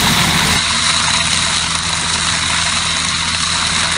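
A Hasatsan hazelnut harvesting machine runs nearby with a loud, steady engine drone and a constant low hum that holds evenly the whole time, with no talk.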